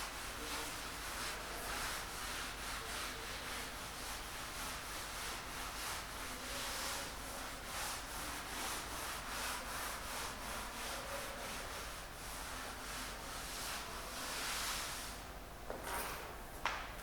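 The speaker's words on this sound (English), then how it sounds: "Now I am going to rub and I will write some more" Chalk or a duster rubbing over a board to wipe away written words, a steady quiet scrubbing that continues without a break for the whole stretch, with no talk.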